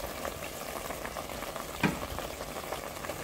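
Ginger and garlic fry in a pan for an Ethiopian vegetarian dish, a steady close sizzle broken by scraping stirs and one sharper clack of the utensil.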